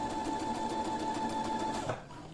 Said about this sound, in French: je couds dans la marge pour maintenir mon volant avec ma manche